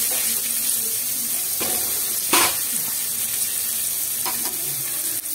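Masala of red chilli, turmeric and garlic fries in a pan with a steady close sizzle and occasional stirring scrapes, no voices.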